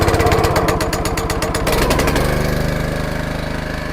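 A small engine, choked and spun up with a Milwaukee drill acting as an electric starter, chatters loudly at first and then settles into a steady, close, throbbing run, with no voices over it.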